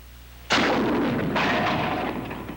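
A bazooka rocket strikes a heavy steel plate target with a sudden loud blast, then a roaring, sustained rumble that briefly swells again midway before slowly fading.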